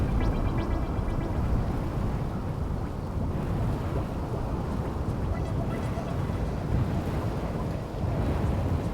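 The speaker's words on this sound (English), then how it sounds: "Hear that wind?" Wind blows hard outdoors on an island, a continuous loud rushing roar buffeting the microphone, with no voices heard.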